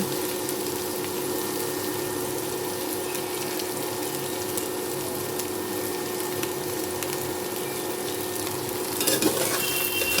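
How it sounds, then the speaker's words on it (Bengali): Raw jackfruit frying with turmeric and salt gives a steady, dense sizzle that holds for the whole stretch, with a brief louder flare of crackle near the end and no voices. "ভালোভাবে নাড়াচাড়া করে হলুদ লবণ মিশিয়ে খুব সুন্দর করে ভেজে নিব"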